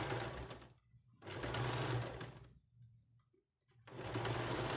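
A sewing machine stitches folded fabric for a halter neck in short, loud bursts, running for about a second at a time with quiet pauses between, close up and without speech.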